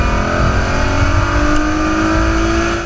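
A Mercedes-Benz E350 wagon with a 302-horsepower engine and a 7-speed dual-clutch gearbox accelerates hard, giving a loud, close, strongly tonal engine roar that holds steady for about three seconds.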